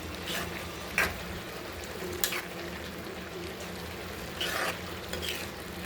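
Ground coconut paste is stirred into a simmering pot of kudal kadalai paruppu kootu, a soft steady bubbling sizzle broken by a few sharp scrapes of the spoon against the vessel.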